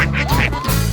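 A duck quacks on a farm, several nasal calls in quick succession over about a second, close and fairly loud with a steady background hum and no talking.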